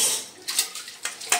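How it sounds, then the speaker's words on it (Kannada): Dishes, pots and pans clink and scrape as they are washed during kitchen cleaning, a few sharp metallic knocks standing out over a soft, steady wash noise, with no voices. "ಅಡುಗೆ ಮನೆ ಎಲ್ಲ ಕ್ಲೀನ್ ಮಾಡ್ಕೊತಾ ಇದ್ದೀನಿ. ಪಾತ್ರೆ ಎಲ್ಲ ಬೆಳ್ಕೊಂಡು ಗ್ಯಾಸ್ ಎಲ್ಲ ಒರೆಸ್ಕೊಂಡು"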